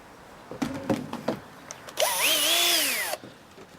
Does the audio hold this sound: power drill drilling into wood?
yes